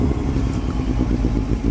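Close-up idling motorcycle, a Yamaha XJ6 or Kawasaki Z750, with a steady low, throbbing engine rumble and slight mechanical clatter, loud and continuous with no voices.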